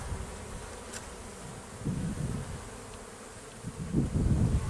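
Honeybees from a colony started from a captured swarm drone around an open hive, a thick, unbroken buzz with deeper swells as bees pass close.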